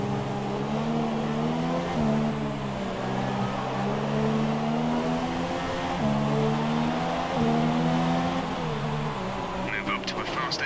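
An F1 race car engine from the F1 2017 game screams at high, sustained revs through the Russia circuit, with brief dips at gear shifts before climbing again, loud and continuous, and a voice comes over the radio.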